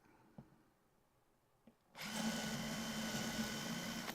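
Near silence with a couple of small clicks, then a power drill starts abruptly and whirs loudly and steadily, boring into wood.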